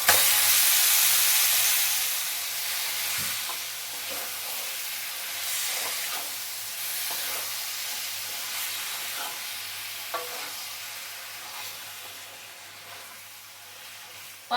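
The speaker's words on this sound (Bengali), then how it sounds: "আমি এবার কচু শাকগুলো দিয়ে দিচ্ছি।" Taro leaves fry with cumin powder, green chillies, salt and sugar in a pan, a continuous loud sizzle and hiss that slowly eases, broken by scattered stirring scrapes.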